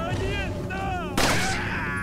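Gunfire in the video game Resident Evil 4, a single sharp, loud shot breaking in after in-game ambient tones and musical swells, with a voice speaking Portuguese around it.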